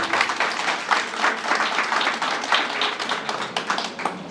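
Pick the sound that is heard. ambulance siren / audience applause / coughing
audience applause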